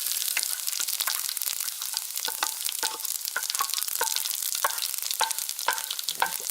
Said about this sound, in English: Oil's smoking, nice and warm, so we put in the chili flakes and all that lot.